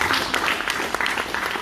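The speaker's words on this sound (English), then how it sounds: "Big round of applause once more for Jess Hammond." A crowd at a political party roadshow meeting in the Ōhāriu electorate of Wellington claps briefly, a dense, even patter of applause that stays fairly loud for its short length.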